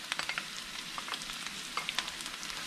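Guajillo, chipotle and árbol chiles fry together in a pan, giving a steady close sizzle scattered with sharp crackles and pops, with no talking.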